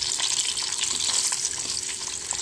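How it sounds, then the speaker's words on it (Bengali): Onions, garlic and dried chillies fry in hot oil left over from frying fish, giving a steady close sizzle with faint stirring scrapes throughout and no voices. "পেঁয়াজগুলো আমি ভেজে নিব"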